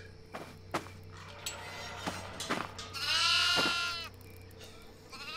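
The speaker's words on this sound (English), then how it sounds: "Now I need to collect the goats." Several goats bleat at close range in a quick run of calls, one long wavering bleat standing out loudest, with faint footsteps and shuffling between them and no talking.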